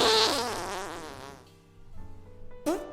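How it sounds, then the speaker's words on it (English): A loud, drawn-out fart with a wavering pitch fades over a second or so, followed by quieter tonal sounds and then one short, sharp burst near the end. "You're really going to fart over my book club?"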